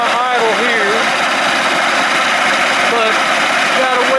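A 1987 Johnson 70 hp outboard motor idles out of the water, a loud steady engine drone with a wavering tone, and someone speaks over it.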